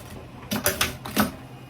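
A sewing machine sews in a zipper. It makes a short run of four quick mechanical clacks in an uneven rhythm, close and clear, with no voices.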